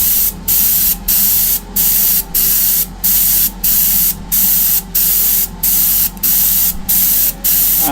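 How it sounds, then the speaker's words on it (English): An airbrush with wings, working like a spray gun, base-coats Greek-style vases in short, even bursts of hissing spray, about a dozen regular pulses with brief pauses between them, close and fairly loud with no talking. "one of the advantages of this particular airbrush is it's working a bit like a spray gun"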